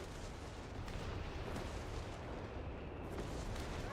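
An anti-tank rocket loiter strike in Company of Heroes, a World War II strategy game, comes through as continuous, dense rumbling and crackling barrage noise, heavy and unbroken throughout.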